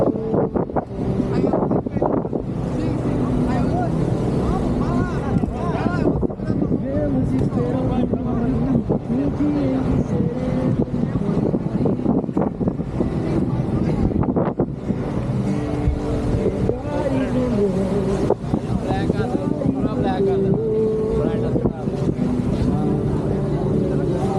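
A boat's engine drones steadily under heavy wind noise, with water rushing and thumping against the hull on choppy waves of the Tagus River in Lisbon; voices talk intermittently over the roar.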